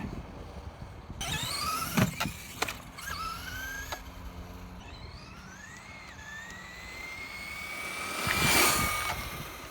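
A Traxxas Slash RC car on 2S power drives and hits ramps, its electric motor whining up and down in pitch through bursts of acceleration, with a louder pass near the end, fairly close.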